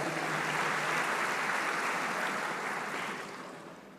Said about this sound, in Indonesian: Ya, tepuk tangan juga untuk Perlindungan Masyarakat.